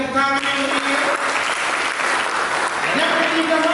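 A church congregation claps together in a dense, continuous burst of applause, loud and close throughout, with a few voices briefly audible at the start.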